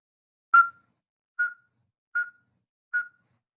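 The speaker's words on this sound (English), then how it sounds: "That is the song of the northern saw-whet owl." Northern saw-whet owl song: four clear, whistled toots at a steady pitch and even spacing, the first slightly louder, against silence.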